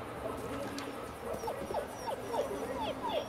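A puppy in Just Cause 3 whimpers in a series of short, high-pitched yips and whines, fairly close over steady ambient game noise, with faint background chatter.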